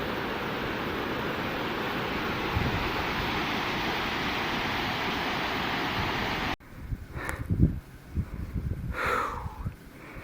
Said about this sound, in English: It's Shoshone Falls on the Oregon Trail.